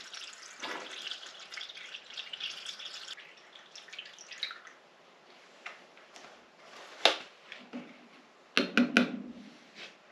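Green antifreeze poured into the radiator of a 1931 Ford Model A hot rod fitted with a Ford 2.3L engine, a soft liquid trickle with scattered drips and a few sharp clunks near the end, with no talking.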